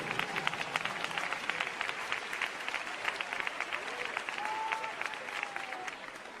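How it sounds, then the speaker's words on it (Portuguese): Church congregation applauding during a sermon, a dense, lively patter of many hands clapping continuously at moderate distance, with faint voices mixed in. "Podem glorificar ao Senhor com uma salva de palmas bem forte, bem alegre."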